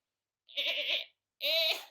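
A person imitates a zebra call that comes out like a goat's bleat, two separate bleating bursts each under a second long with a short pause between them, close and fairly quiet.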